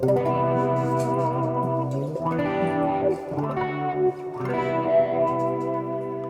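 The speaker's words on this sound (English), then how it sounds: "the wah pedal will disengage automatically" Sustained distorted guitar chord swept by a wah effect on an Axe-Fx III, the tone opening and closing in slow vocal-like swells.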